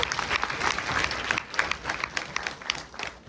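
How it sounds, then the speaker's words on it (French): An audience at the final of a debating tournament, the Coupe Lilloise de Débat, applauds a debater with a steady patter of many hands clapping at a moderate distance. "On peut l'applaudir d'ailleurs."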